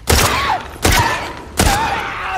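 Three heavy, booming gunshots in The Last of Us Part 2, evenly spaced under a second apart, each loud and close with a ringing tail.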